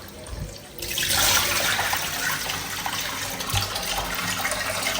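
Tap water running and splashing as Ghanaian local Ofada rice is rinsed in a bowl for the third time, a steady close wash of flowing water with no talk.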